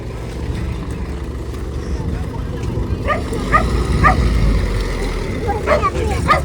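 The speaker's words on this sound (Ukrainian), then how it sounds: "Собака гавкає." A dog barks a few times at a distance over steady engine-like rumble and wind, the sharp yaps spaced out in the second half.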